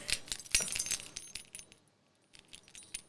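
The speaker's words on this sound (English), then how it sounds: "You guys want to hear my keys, actually?" A bunch of keys jangles and clinks close to a podcast microphone, with bright metallic chimes in several bursts, a louder shake near the start and a quieter pause before more jingling toward the end.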